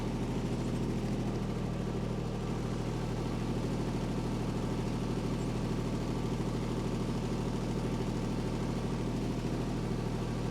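A compact tractor fitted with a hedge cutter idles at lowered revs, a steady low drone with a constant rumble, close and unchanging with no talk.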